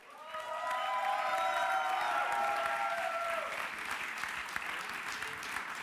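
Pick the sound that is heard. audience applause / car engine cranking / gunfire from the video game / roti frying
audience applause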